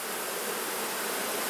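Honey bees swarm over ten drawn-out frames in an open hive, making a dense, steady, close buzz that fills the air without a break.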